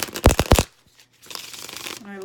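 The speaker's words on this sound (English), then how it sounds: "when I shuffle my cards" Tarot cards are shuffled in quick riffling bursts, several sharp papery flutters up close, followed by a pause and then someone speaking.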